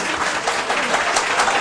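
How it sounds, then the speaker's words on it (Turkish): An audience applauds musicians at a concert, a dense, loud, continuous roar of many hands clapping that fills the whole moment with no voices. "aynı güzellikteki alkışlarınızı birbirinden değerli müzisyen arkadaşlarım için"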